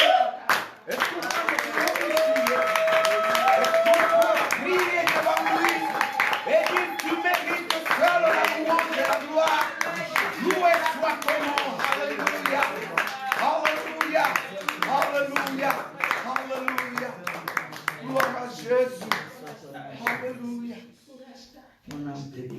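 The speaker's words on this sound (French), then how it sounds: "Est-ce qu'on peut l'applaudir?" Church congregation clapping and applauding at a Sunday morning prayer service, a dense, steady run of hand claps lasting most of the way, with voices and musical tones mixed through it before it thins out at the end.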